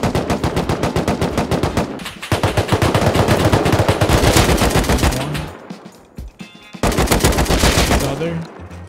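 Gunfire in a survival base-building video game: rapid, loud automatic bursts repeat almost continuously, with short gaps between volleys.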